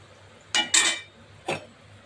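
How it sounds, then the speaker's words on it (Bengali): Three metallic clinks and scrapes ring out as fried pithas are lifted from a pan with a slotted spoon, close and crisp in a quiet kitchen. "এই যে সুন্দর করে পিঠেগুলো এবারে তুলে নেব,"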